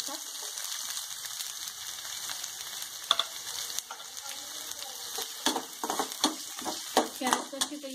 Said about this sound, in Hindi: जीरा भुनते ही हम उसके बाद प्याज डाल देंगे बारीक कटे हुए एक कप।